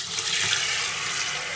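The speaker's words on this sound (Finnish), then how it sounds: "laitetaan vettä kiehumaan ja" Tap water runs steadily into a pot being filled for boiling in a home kitchen, a continuous even rush with no talk over it.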